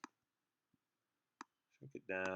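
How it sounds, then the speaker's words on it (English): A computer mouse clicks on a shrink button, with two or three sharp, isolated clicks spaced apart in near silence, followed by a short burst of other sound at the end. "So just clicking on the shrink button, shrink it down"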